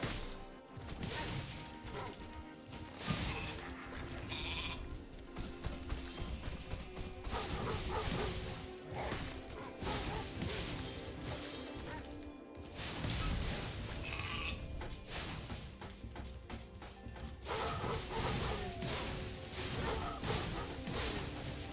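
Sheep bleat in the Spyro Reignited Trilogy video game, set amid dense, continuous game music and sound effects, with occasional smashing and whacking hits throughout.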